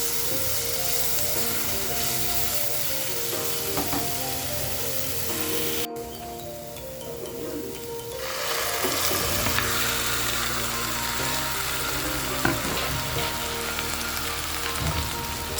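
Marinated chicken pieces fry in a pan with spices for a chicken masala, a steady crackling sizzle with stirring scrapes, dipping briefly and then surging louder as the meat goes in, with no talking.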